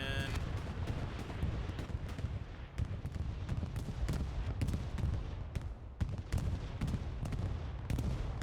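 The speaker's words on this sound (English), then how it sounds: "Bombing run coming in." Bombing run in the WWII shooter Hell Let Loose, a dense, loud barrage of booming explosions and rumbling blasts with sharp gunfire cracks throughout, continuous and heavy without pause.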